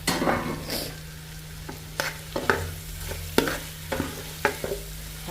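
Chicken cooking in a pan with curry leaves, a steady frying sizzle broken by repeated sharp scraping stirs of a spatula roughly every half second, close and moderately loud with no talking.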